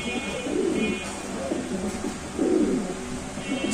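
A black Lahori pigeon at a pigeon sale coos in low, throaty, rolling bursts, three clear phrases close to the microphone over a faint background murmur.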